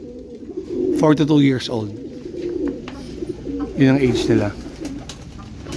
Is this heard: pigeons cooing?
yes